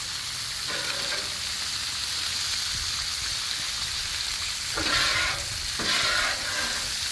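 Purple onions sauté in bacon grease on a Blackstone flat-top griddle, a loud, dense sizzle throughout with a few brighter bursts as a spatula pushes them through the fat, close up and without voices.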